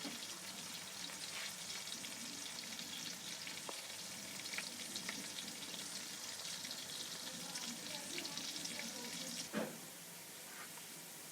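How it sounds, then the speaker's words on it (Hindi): Onions frying in a pan for aloo gosht, a steady close sizzle throughout with occasional stirring scrapes and a sharper clatter near the end. "मैं इसमें अभी मसाले यही डालूँगा, अल्हम्दुलिल्लाह, और प्याज की अच्छे तरीके से बुनाई कर लूँगा।"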